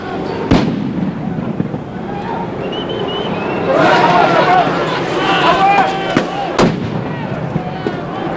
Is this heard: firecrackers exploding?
yes